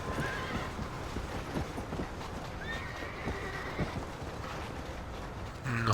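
Horse whinnies and clip-clopping hooves from the video game Red Dead Redemption, with a steady hoof rhythm under a couple of drawn-out neighs, fairly close and moderately loud.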